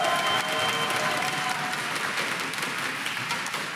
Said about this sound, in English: Guys, a very heartwarming applause